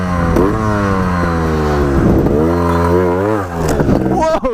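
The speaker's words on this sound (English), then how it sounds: "We gotta go up a freaking 3-foot wall, no problem for the Scorpa." A 2018 Scorpa trials motorcycle revs hard while climbing a 3-foot wall, its engine rising and falling in pitch through several loud, close throttle bursts.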